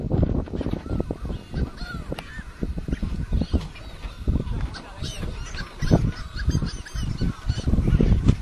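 Seabirds call out on the open Pacific, heard from a sailboat during an ocean crossing: a busy run of harsh honking cries at irregular intervals over steady wind and water noise, fairly close, with no talk.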